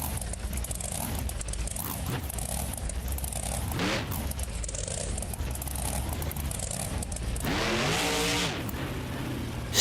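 Tail Gator, a monster truck in the BeamNG game, roars with a loud sustained engine note that climbs and falls in pitch as it revs for a wheelie, with a sharp rising rev near the end.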